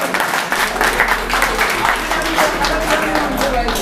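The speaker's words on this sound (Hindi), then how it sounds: "मंसूर साहब के लिए ज़ोरदार तालियां हो जाए।" An audience at an award ceremony for wrestlers breaks into steady, dense applause, many hands clapping at once at close range throughout, with some voices mixed in.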